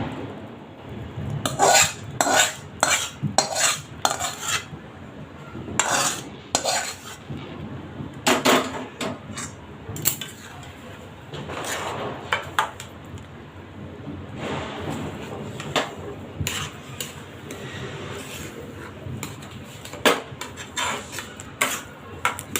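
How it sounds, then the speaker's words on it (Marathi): Semolina is stirred into sugar syrup in a pan for rava laddu. A spoon makes irregular scraping and clattering strokes against the metal, close and moderately loud, with quieter pauses between bursts. "आता सब पाकामध्ये हा रवा एकत्र करून घ्यायचा"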